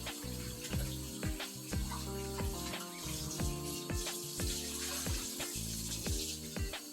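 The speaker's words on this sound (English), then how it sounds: "We're going to rinse it off, but you know we have a vinegar on it, so we're going to rinse it." Tap water running into a kitchen sink while oxtail is rinsed of vinegar for Jamaican oxtail, a steady close splashing flow with clattering knocks and handling sounds throughout.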